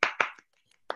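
A few sharp hand claps ring out in a quick burst, two loud ones close together, then a softer one, a pause with faint taps, and one last clap, as a small group at a party applauds someone.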